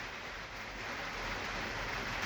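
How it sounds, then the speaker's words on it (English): Heavy rain pours down in a dense, unbroken hiss of spray and patter that grows slightly louder toward the end. "it's pouring with rain."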